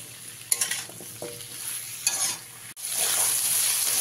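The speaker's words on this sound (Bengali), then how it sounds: "এবার ভালো করে মিশিয়ে নিয়ে বেগুনটাকে অল্প কিছু সময় আমি ভেজে নিই।" Eggplant and potato frying in a pan while being stirred, with close scraping strokes over a steady sizzle and a few sharper spatula knocks.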